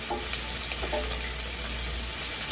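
Parboiled potatoes set face down in a hot pan give off a steady, close frying sizzle, an even crackling hiss throughout with faint clinks and no talk.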